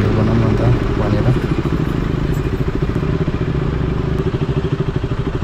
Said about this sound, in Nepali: आज चाहिँ मैले साथीको बाइक लिएर आएको छु